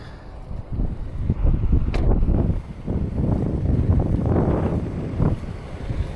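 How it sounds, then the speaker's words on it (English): Strong gusty wind buffets the microphone outdoors beside a Dodge Dart with its hood open, a steady low roar with rising gusts throughout and no talk. "It's quite windy out today."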